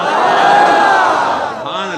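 A large crowd shouts a religious slogan in unison, a loud, sustained roar of many voices that swells and then eases off near the end.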